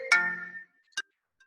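A phone ringtone goes off during an online lecture: one short, bright melodic burst, then a single brief electronic chime and a faint blip, with no talking.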